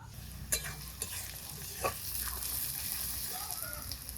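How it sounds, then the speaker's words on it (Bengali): Chicken pieces fry with onions in a pan, giving a steady close sizzle broken by a few sharp scrapes and knocks of a stirring utensil. "মাংসগুলো প্রথমে ফোড়নের পেঁয়াজে ভেজে তারপরে সব মশলা দিলাম"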